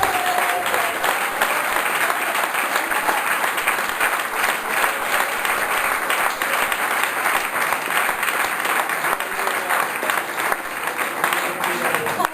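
A church congregation applauds during a testimony, sustained dense clapping that runs steadily and loud for over ten seconds, with voices faintly mixed in.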